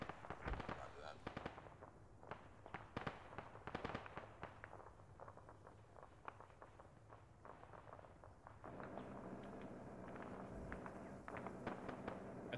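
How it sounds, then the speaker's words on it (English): Mortar strikes in a military video game, a run of sharp crackling bursts and thuds, some near and some distant, with people talking over radio throughout. "Calling in mortars on it."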